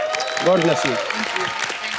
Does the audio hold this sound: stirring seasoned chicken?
no